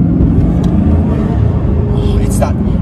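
Bugatti Chiron quad-turbo engine revving loudly and close, a deep steady roar holding throughout under people talking.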